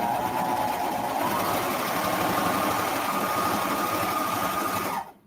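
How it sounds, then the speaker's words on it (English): Serger overlocking the front curved crotch seam of a swimsuit, a close, loud, steady whirring hum that runs without a break and stops abruptly at the end. "So I'm going to use the serger."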